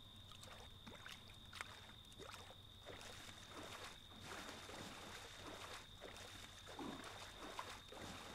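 In the video game Friday the 13th, water sloshes and splashes around a small boat in uneven strokes, close and steady, over a faint constant high-pitched hum, with no talking.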